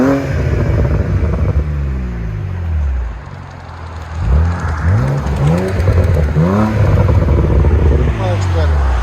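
A 2014 BMW Z4 with a 3.0L inline-six and Vibrant Ultra Quiet exhaust revs up and backs off twice, a deep, smooth engine note that swells and falls close by.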